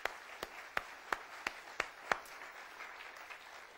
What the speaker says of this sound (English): y'all can clap. That'd be good right now.